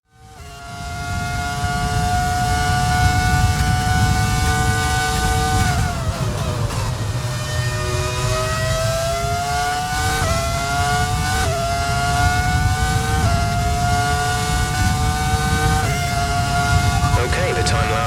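A Ferrari F2004 Formula 1 car in the Codemasters F1 game screams at high revs, its steady loud engine whine rising and dropping through gear changes across the whole stretch, with a voice talking over it.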